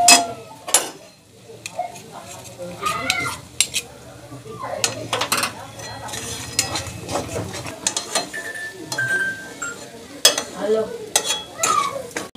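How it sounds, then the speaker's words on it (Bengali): Spice masala being sautéed in a pan, with loud repeated scraping and clanking of a spatula against metal over a steady sizzle, and a voice briefly speaking. "ভালোভাবে কষিয়ে নেব"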